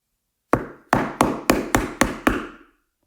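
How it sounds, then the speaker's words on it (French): Fists pound heavily on a door in seven loud, close blows, the first pair spaced apart and the rest coming in a quicker, steady run, each thud ringing briefly before the next. "le ravisseur martèle la porte de ses poings"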